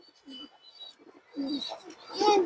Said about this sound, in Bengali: এই দেখেন দর্শক কবুতরটা দেখেন মাসাল্লাহ অনেক সুন্দর একটা কবুতর